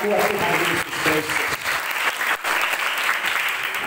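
A church congregation at an outdoor village revival service applauds, brisk steady crowd clapping with cheering voices mixed in, loud and close throughout.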